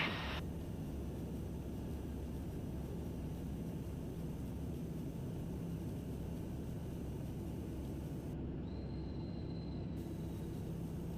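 Steady, loud broadband roar of a TBM 850 turboprop climbing out after takeoff, heard from inside the cabin as a continuous engine and airflow drone with no talk.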